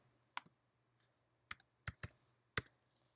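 Computer keyboard keys tapped in a few sparse, sharp bursts over a low steady hum, quiet and close with gaps between strokes, while setting a custom locket size in Silhouette software.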